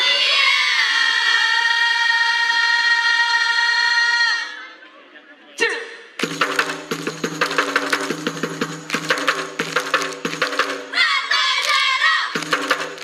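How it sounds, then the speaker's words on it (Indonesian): An audience cheers and claps for a children's Saman dance. A dense, loud burst of crowd noise follows a stretch of sustained tonal sound, then continues steadily with shouts rising over it. "Tepuk tangannya dimohon untuk adik-adik saman kita."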